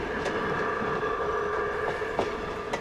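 A miniature model railroad train runs along its track with steady rolling rail noise, a faint clickety-clack rhythm and a couple of brief sharper clicks, moderately close and continuous throughout.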